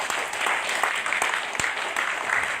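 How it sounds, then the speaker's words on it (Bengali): Audience applause fills a celebration program at a Mingle seminar, a dense, steady crowd clapping that stays loud and even throughout with no talking over it. "সকলের পক্ষ থেকে একটা সেই রকম করতালি আশা করছি"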